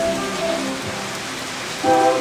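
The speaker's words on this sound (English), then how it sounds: "Yeah, it's raining." Rain falls outdoors during Hurricane Irene, a steady close hiss of drops on surfaces, moderately loud and unbroken, with no one speaking.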